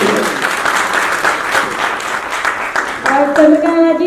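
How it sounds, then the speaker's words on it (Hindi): An audience at a charitable trust's awards ceremony in Jaipur claps steadily and loudly, and a voice and music enter near the end over the continuing applause. "पहले हम सब लोगों को इनके लिए एक बार जोरदार ताली बजानी चाहिए।"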